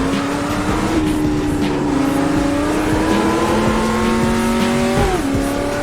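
Racing car tyres squealing under load through corners of the Top Gear Imola challenge in a driving game, sustained tonal screech shifting pitch over a continuous engine drone, close and loud.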